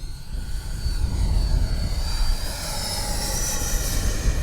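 A HobbyKing Viper 64 RC jet passes slowly overhead outdoors, its ducted-fan whine and rushing roar swelling and sustaining as it moves by, with no talk.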